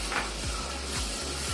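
Ginger paste sizzles in a pan of cooked-down tomatoes for chicken biryani, a steady frying hiss with a few soft scraping stirs of a spoon against the pan.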